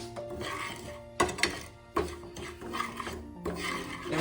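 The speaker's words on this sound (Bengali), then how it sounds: "আমি এই ছোট কাপের 1 কাপ সুজি হালকা শুকনো খোলায় নেড়ে নেব" Semolina being stirred while it dry-roasts in a pan, a close rasping scrape repeated in uneven strokes with a few sharper knocks against the pan, steady and moderately loud with no talk.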